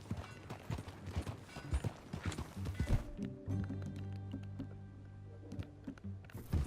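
Horse hooves clip-clopping on a ranch, a quick irregular patter of hoofbeats up close, followed by quieter steady clopping under a sustained tonal background.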